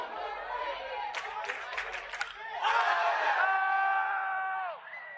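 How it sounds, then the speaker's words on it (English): A high school baseball crowd chants at a batter. Sustained, ringing group voices rise and hold over a rough, clattering stretch of crowd noise at moderate volume. "the opposing team and maybe crowd is chanting overrated at him"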